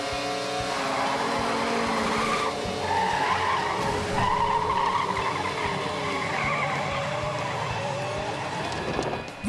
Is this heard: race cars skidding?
yes